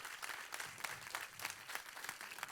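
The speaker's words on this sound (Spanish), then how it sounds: "denle un fuerte aplauso a su Dios por eso." A church congregation applauds steadily for a few seconds, dense clapping at moderate distance with no voices standing out.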